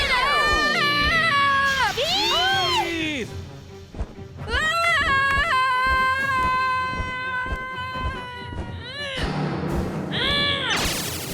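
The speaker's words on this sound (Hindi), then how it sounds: "देखिए, उसके चीखने की कितनी आवाजें आ रही हैं।" Cartoon flamingo-like robot screeches loudly and repeatedly, with shrill wavering cries rising and falling over busy animated sound effects.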